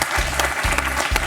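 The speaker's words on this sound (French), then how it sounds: "On va applaudir très fort Marc pour ce magnifique 4 à la suite" A studio audience applauds a quiz show contestant, dense steady clapping close and loud, with low rhythmic thumps beneath it.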